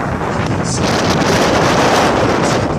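Wind on the seaside promenade Vernier in Nouméa, New Caledonia, a loud, close roar battering the microphone in a dense continuous rush with no pauses or voices.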